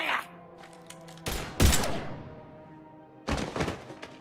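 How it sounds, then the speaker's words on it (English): Gunfire in the Mass Effect 3 video game: several sharp, loud bursts of shots with thumping impacts, separated by brief lulls of fading echo. "Now open fire!"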